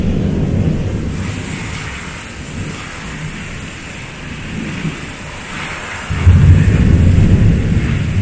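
Heavy rain pours down during a spring storm in Spring Branch, Texas, a loud, steady roar of downpour that swells even heavier for the last couple of seconds.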